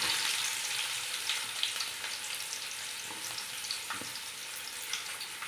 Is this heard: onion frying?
yes